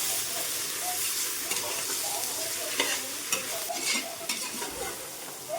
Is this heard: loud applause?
no